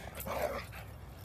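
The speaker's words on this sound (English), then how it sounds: "Oh, it's a person with a dog." A dog gives a short whimpering, growl-like yelp outdoors, brief and fairly close, with no voices over it.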